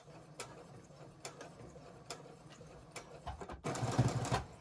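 A sewing machine backstitches a fabric mask, a faint, rhythmic mechanical chatter with evenly spaced clicks that swells louder and busier at the end.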